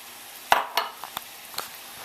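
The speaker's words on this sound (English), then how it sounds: "We dump in the oil and we dump in the rice." Oil and rice are dumped into a pot of boiling water: a few sharp clinks and splashes followed by soft scattered knocks and a light sizzle, close and otherwise quiet.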